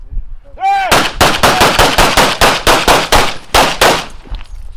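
A rapid string of about a dozen loud, close pistol gunshots at a shooting class, evenly spaced with a brief pause near the end and sharp echoing cracks.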